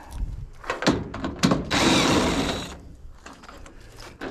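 A power drill backs screws out of a dryer cabinet for scrap, with several short whirring bursts and one longer sustained run. Clanks and handling noises of sheet metal come between the bursts, up close, with no talk.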